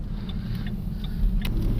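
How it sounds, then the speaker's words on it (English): A gasoline car engine rumbles low and steady nearby, swelling slightly louder toward the end as it revs, with faint small clicks and no one speaking. "you might notice that there is an engine rev today"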